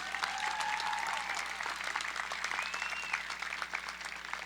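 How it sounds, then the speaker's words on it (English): A high school graduation crowd applauds the salutatorian and valedictorian speeches with sustained, even clapping from many hands, while a few whistles rise briefly above it. "Let's have another round of applause for salutatorians and valedictorian speeches"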